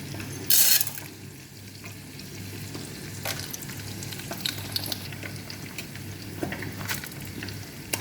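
Onions fry in hot oil in a pan, a continuous close crackling sizzle with a sharp clatter near the start and scattered pops and stirring scrapes throughout.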